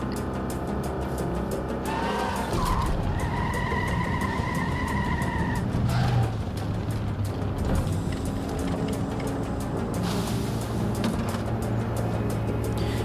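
A car in a Hoyoverse video game drives with a steady engine drone, and a tyre squeal rises in the middle, heard as game audio without any voices.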